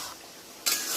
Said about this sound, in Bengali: এটা আমি ভালো করে নাড়াবো।